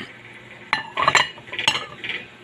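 Cooked rice scooped with a serving spoon in a home kitchen, giving a few light metallic clinks and soft scraping sounds against a pot, close and fairly quiet with no talking.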